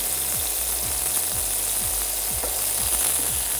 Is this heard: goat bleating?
no